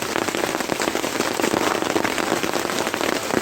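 Steady heavy rain pours on a campsite during a carnival camping trip, a thick, even hiss of drops striking tarps and ground nearby with scattered sharper taps, no one talking.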